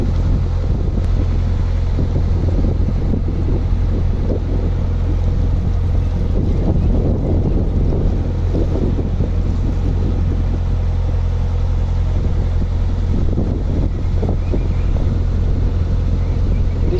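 Steady wind buffeting the microphone aboard a narrowboat on the River Soar, a constant low rumble with gusty swells throughout and no voices.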